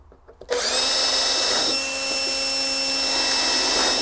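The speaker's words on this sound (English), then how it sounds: "Make sure you drill where your block is" After a moment of quiet, a power drill whirs up loudly and runs continuously, its pitch dipping slightly as it bites into a wooden stair riser and block.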